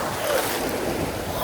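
Ocean waves wash on a Gulf beach, a steady broad hiss of surf and water close by, with wind mixed in and no clear breaks.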